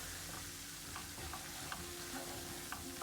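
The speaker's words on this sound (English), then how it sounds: "Putting in the gram flour, that is besan, and stir it very quickly so that it doesn't get burnt." Gram flour (besan) being stirred quickly in hot clarified butter (ghee) for besan ladoo, a faint steady sizzle with soft scraping taps of the spoon, quiet and without talk.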